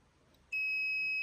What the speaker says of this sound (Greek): Εδώ τώρα έχουμε ένα στόχο.